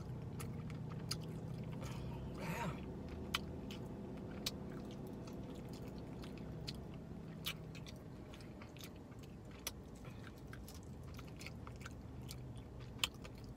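Close, quiet chewing of KFC fried chicken, with soft wet crunches and bites in an irregular rhythm over a low steady background hum.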